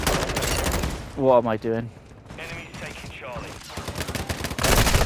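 Gunfire in Call of Duty: Modern Warfare II, rapid bursts of shots in loud clusters at the start and end, with someone talking in the middle.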